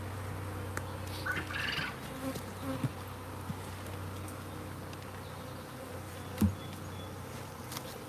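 A live honeybee swarm hums in a continuous, steady drone of many buzzing bees, with a few faint knocks and flybys over the constant buzz.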